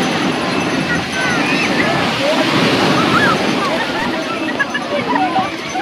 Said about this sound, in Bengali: জল বাড়তে শুরু করে দিয়েছে, জল বাড়ছে কি তাড়াতাড়ি জল বাড়ছে